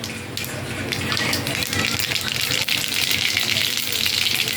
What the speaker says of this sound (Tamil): இதில் இது கடுகு போட போகிறேன்